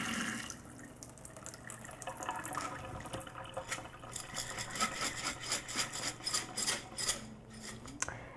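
Rinse water drains and trickles out of a jar of sprouting sorghum grain, a close, rasping splash of water running against glass and grain that swells toward the end.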